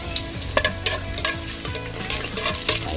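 Garlic frying and sizzling in a pan over a very strong single burner, a constant crackling sizzle with the scrape of stirring, close and steady.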